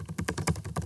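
Rapid typing on a computer keyboard, a quick burst of crisp, close key clicks in an uneven rhythm with no voices.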